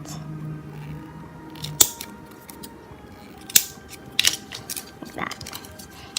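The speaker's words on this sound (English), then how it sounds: "take our scissors so that we maintain our little cuts and cut the edges like that" Scissors cut the edges of a paper piece for a craft doll crib and nursery furniture. Sharp, crisp snips come up close at scattered moments over a quiet room hum.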